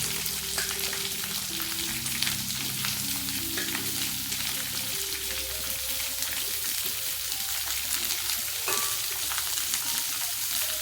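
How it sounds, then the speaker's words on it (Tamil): Onions with green chilli and curry leaves sauté in a pan for a Tamil cabbage kootu. A dense, continuous close sizzle holds steady throughout, with occasional faint stirring clinks and no speech. "நல்லா வதக்கணும்."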